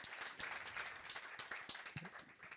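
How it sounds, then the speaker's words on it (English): Applause from a conference audience at a Django developer event, a steady dense patter of many hands clapping that holds through the whole stretch at a fairly soft, distant level with no one talking over it. "let's give Christoph a big round of applause"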